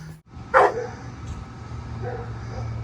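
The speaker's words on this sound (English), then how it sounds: "can you hear all those dogs in the neighborhood barking over?" Neighborhood dogs bark from across a backyard, a couple of sharp distant barks and yips over low steady background hum.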